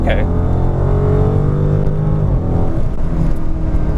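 Dodge muscle car with the transmission in track mode, accelerating hard through second gear, a loud sustained engine roar that holds steady and close, with a brief spoken word at the start.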